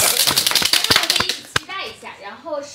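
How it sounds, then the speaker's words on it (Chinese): Applause from the cast and audience at a livestream for the Chinese drama series Joy of Life season 2, a brief burst of rapid scattered clapping that stops abruptly, followed by voices talking. "哎，鼓掌。"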